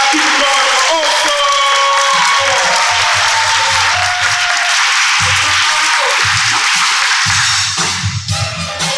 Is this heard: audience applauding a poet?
yes